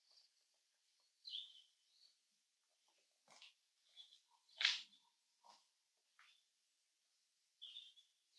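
A European robin sings in a forest, giving faint, thin high chirps and short warbling phrases spaced by pauses, with a few soft rustles and no talk.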